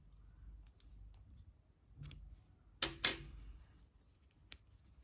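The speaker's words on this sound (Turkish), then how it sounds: "İpliği burada kesiyorum." Scissors snip through yarn during crochet work: a few quiet scattered clicks, then two sharp close cuts near the middle and one more crisp snip toward the end, with no talking.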